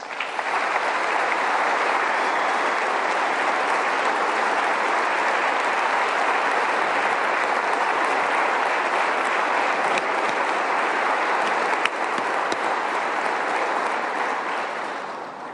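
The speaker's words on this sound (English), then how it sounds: "Please give a great big round of applause to, again, one of our heroes," An audience claps loudly and without pause through West Virginia's State of the State address, sustained dense applause from a large hall that swells slightly and fades near the end.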